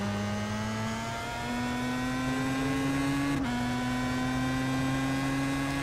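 A Pro Mazda race car in a racing video game, lapping Mid-Ohio Sports Car Course, holds full throttle with a steady, loud engine drone that climbs gradually in pitch, broken by a brief gear-change blip midway before pulling on.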